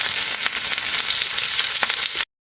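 Garlic and onion frying together in oil in a pan, a steady loud sizzle with a few brief crackling pops, heard alone without talk before it cuts off abruptly.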